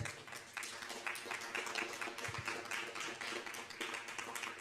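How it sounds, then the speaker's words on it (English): An indoor audience at a cultural talk event claps continuously, producing dense, crackling applause at moderate volume with a steady flurry of overlapping hand claps throughout. "So I think both our guests need serious applause."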